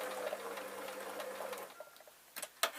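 A sewing machine stitches a short way down a purse, giving a steady close whir for a couple of seconds before stopping, followed by a few sharp handling clicks.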